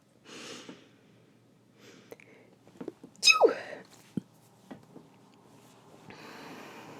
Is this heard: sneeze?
yes